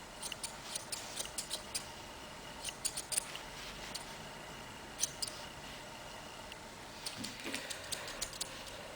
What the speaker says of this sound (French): je termine un petit peu la tête au ciseau sculpteur, histoire d'enlever les petites mèches qui dépassent